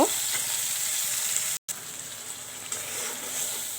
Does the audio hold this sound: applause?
no